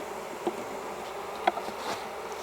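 Honey bees around a formerly queenless hive, a faint steady hum with a few soft sharper buzzes of individual bees passing close, no voices.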